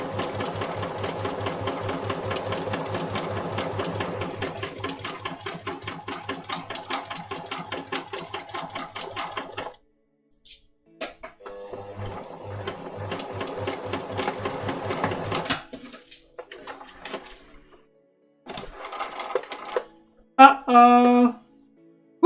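Sewing machine stitching a waistcoat, a fast steady mechanical clatter running loud for about ten seconds, then shorter bursts of stitching with pauses and small handling noises, ending in a few sharp clicks.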